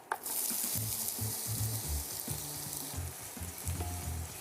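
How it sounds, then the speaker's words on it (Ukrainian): Continuous close sizzling of onions frying in olive oil in a pot, a steady crackle with occasional stirring scrapes, no talking. "Спочатку в каструлі на оливковій олії смажимо цибулю."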